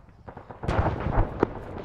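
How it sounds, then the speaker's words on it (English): Mortar shells firing in a military video game, heard as a cluster of heavy, booming thumps over about two seconds with a sharper report near the end, fairly loud against low rumbling background. "We'll send a few mortar shells behind it"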